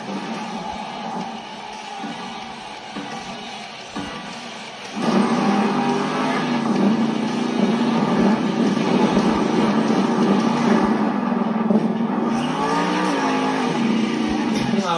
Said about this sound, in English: Next up, representing for Team Throttle Monster, this is David Olfert in Velociraptor.